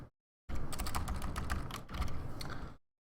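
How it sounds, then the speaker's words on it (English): Fast typing on a computer keyboard, close and fairly loud, a dense run of clicking keystrokes for about two seconds with a brief pause in the middle, then silence. "I love how I also can't type 180 without typing 1280"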